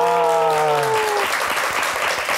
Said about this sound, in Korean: 여기서 박수 한번